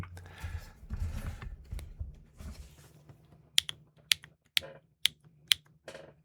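HMX linear switches on a Neo65 Core Plus mechanical keyboard bottom out in about six crisp, clean, separate clacks, close and fairly loud, after a stretch of low handling rustle.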